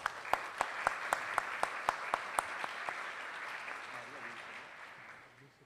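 Applause from a small audience, a short burst of distinct, evenly spaced claps that soon fade into room murmur.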